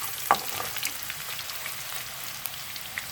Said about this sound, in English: we just want to brown the edges of the garlic and ginger and soften them